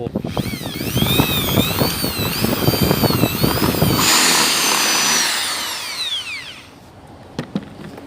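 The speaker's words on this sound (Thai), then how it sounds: "แล้วใช้สว่านนะครับ เจาะรู" An electric drill bores a hole through PVC pipe while making a homemade foot valve, a loud steady whine with rising and falling pitch that stops after about four seconds, followed by a fading hiss and a few small clicks.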